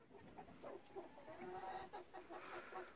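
Chickens cluck in a coop in the snow, soft, scattered clucks and murmurs from several birds heard faintly within a quiet, hissy room tone.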